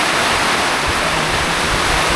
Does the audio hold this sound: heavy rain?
yes